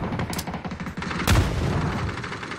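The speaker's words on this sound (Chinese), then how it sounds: "开枪了。" Gunfire in a battle royale video game, with a sharp, loud burst of shots rising out of dense, continuous game noise partway through.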